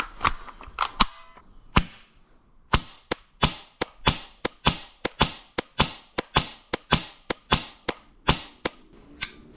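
Airsoft gun firing at a target 80 feet away: a few scattered shots, a short pause, then a long, steady string of about twenty sharp, snappy cracks at an even pace, each one distinct and clear.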